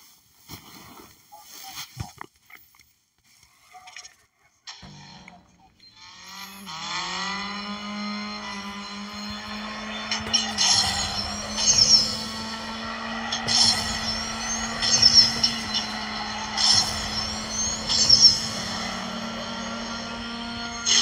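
Racing game engine roar in Need for Speed No Limits during a Hunter race: a car engine rises from near silence into a sustained drone with repeated sharp shifts and bursts, heard with occasional talk over it.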